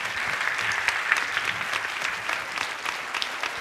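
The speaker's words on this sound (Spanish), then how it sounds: "muchísimas gracias y un fuerte aplauso para vosotros" An audience applauds after a talk at the Mundos Digitales 2014 conference, a dense, steady patter of many hands clapping throughout, fairly close and even in loudness.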